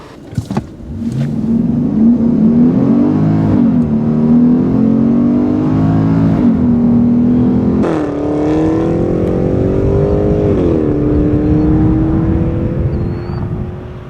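A 2014 BMW X5 M roars through a hard 0-60 mph run, engine climbing loudly through several gear changes with brief dips between shifts, close and sustained.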